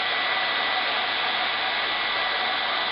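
A hot air plastic welding gun set to 680 degrees blows a steady, even hiss of air, constant and close for the whole stretch with no pauses or talk.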